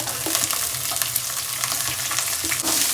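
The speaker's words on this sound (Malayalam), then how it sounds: "ഇപ്പൊ നമുക്ക് ആവശ്യത്തിനുള്ള സവാളയും പച്ചമുളക് അരിഞ്ഞു വെച്ചിരിക്കുന്നത് ഇട്ട് കൊടുക്കാം." Chopped onion and green chilli fry with ginger and garlic for aloo paratha filling, making a loud, continuous close sizzle with faint stirring clicks. No one talks.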